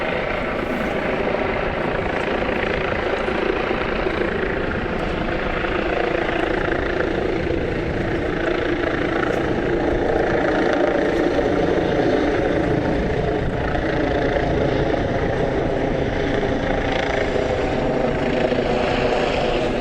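A helicopter flies overhead in Glasgow, Scotland, its loud, steady rotor and engine drone filling the full twenty seconds without letting up and with no voices.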